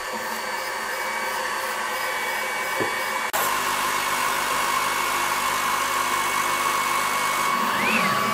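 An ACMER P2 33W diode laser cutter cuts through 19 mm pallet wood, giving a steady, loud mechanical whir like a fan or air assist that runs throughout, with a sharp jump in level about a third of the way in and no talk.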